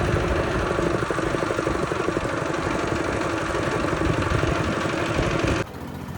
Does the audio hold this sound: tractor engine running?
yes